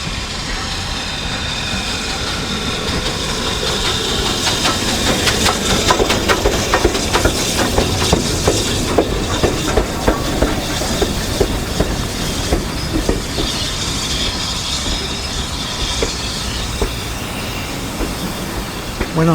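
A steam train on a heritage railway rumbles past close by with rhythmic clickety-clack of wheels on rails, hissing and squealing, loud and sustained throughout.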